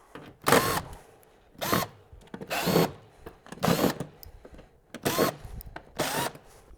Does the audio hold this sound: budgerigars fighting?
no